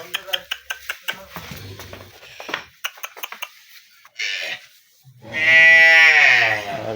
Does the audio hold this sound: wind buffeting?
no